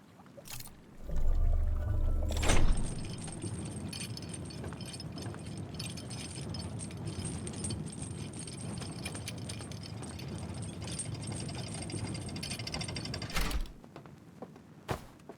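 An elevator ride in the video game Outer Wilds: a low mechanical rumble starts, then a long steady whirring hum carries on with faint clatter before it stops with a thud near the end.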